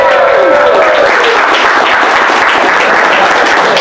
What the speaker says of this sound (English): He's so excited to clap for Ninja